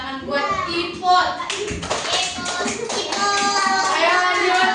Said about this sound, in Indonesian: Kasih tepuk tangan buat Ipot.